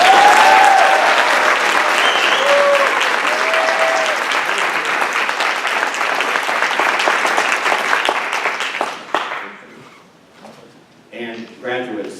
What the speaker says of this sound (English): just one more round of applause for the graduates